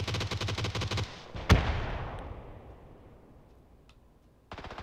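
Gunfire in the video game PUBG: a rapid automatic burst, then one loud close shot whose echo trails away, a faint distant crack, and another burst starting at the end. Nobody talks.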